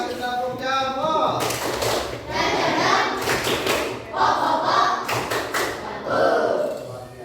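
Sixth-grade schoolchildren in a classroom do a rhythmic group clap chant, bursts of clapping in short repeated phrases with chanting voices, pausing between rounds.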